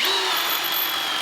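A Ridgid subcompact power drill spinning a 1/2 inch paddle bit, a brief steady high whine with constant pitch, close and loud, with no talk over it.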